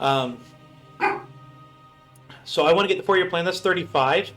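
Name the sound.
dog barking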